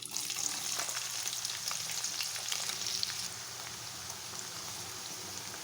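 Sliced onion and green chillies frying in hot oil in a pan, a continuous close bright sizzle and crackle that eases slightly toward the end, with no talk.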